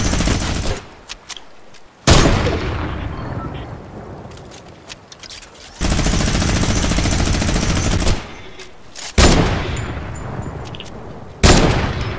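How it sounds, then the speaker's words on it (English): Loud bursts of video game gunfire in Fortnite come in several separate volleys with short gaps between them, each one abrupt and close, while players talk over part of it. "Gonna shoot at him or what?"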